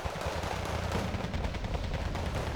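Cannon fire and gunfire from the video game Wargame Red Dragon, aimed at BTR armored vehicles, form a dense, continuous rattle of shots that stays loud and unbroken throughout.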